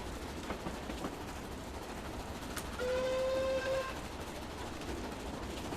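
A steam locomotive runs in Train Simulator 2020 on a Great North of Scotland route, a steady rumbling chuff and rolling noise broken by a short clear whistle blast partway through, with no talking.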